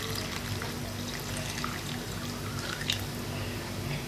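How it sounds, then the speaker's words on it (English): Water poured into a cup in a kitchen while making microwave fried noodles, a steady close trickle and splash over a constant low hum, with no voices. "Now, put the water inside again,"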